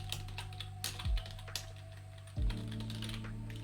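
Light, quiet taps on a computer keyboard, a short scattered run of keystrokes heard close and alone, with a low hum underneath.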